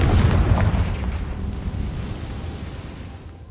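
A loud, close explosion from the Confringo fire spell in the Hogwarts Legacy video game bursts at once, then rumbles and slowly fades over a few seconds.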